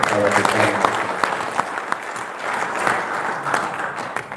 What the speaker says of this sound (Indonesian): Tepuk tangan untuk kepala desa.